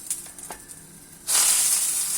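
Meat cooks in a pot while its liquid reduces, with faint crackles before a loud, steady sizzling hiss takes over and continues to the end, with no talk.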